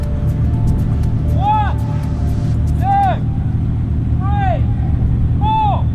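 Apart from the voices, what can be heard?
McLaren and Ferrari engines revving at race start line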